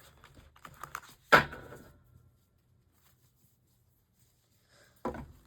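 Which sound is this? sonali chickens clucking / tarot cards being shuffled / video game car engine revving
tarot cards being shuffled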